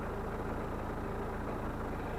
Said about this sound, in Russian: Прогреть двигатель и оставить работать на холостых оборотах.